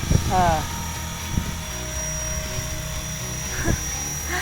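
A radio-controlled Airwolf 450-size model helicopter flies close by in a steady, high rotor and motor whine that holds throughout, loud and near, with brief thumps and a short sweeping tone over the top.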